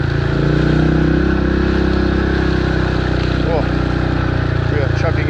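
Motorbike loaded with gear chugging through mud on an old Congo road, its engine a steady low rumble throughout with a few brief louder bursts, close and continuous, with someone talking over it.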